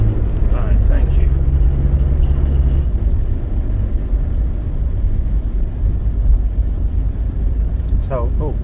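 A Rover 25 car climbs a steep hill in second gear, its engine a steady, loud low rumble from inside the cabin, with wind noise throughout and a voice talking over it near the start and end.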